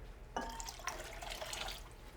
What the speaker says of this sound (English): We're gonna add a little more water to it.